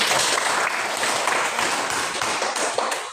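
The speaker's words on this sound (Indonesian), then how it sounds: "Berikan tepuk tangan kepada si Cici." Classmates clap for a pupil named Cici in an Indonesian classroom lesson, a sustained, moderately loud patter of many small hands with scattered sharper claps throughout.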